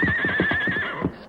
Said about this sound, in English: Then hold the horse for him, Palmer.